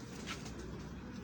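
Pigeon cooing close by in a short, soft burst over steady background noise, with no talking.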